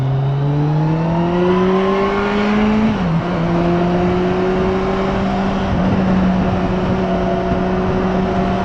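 A Kawasaki GTR1400 touring motorcycle engine drones steadily while riding, its pitch rising, dipping briefly at a gear change, then holding a smooth even hum close to the microphone, with wind noise underneath.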